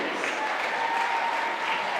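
Steady applause from a crowd at a girls' YAIAA championship volleyball match, Spring Grove versus Dallastown, sustained and even throughout with no talk over it.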